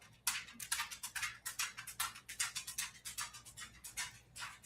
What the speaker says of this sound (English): that's the dog with noisy toenails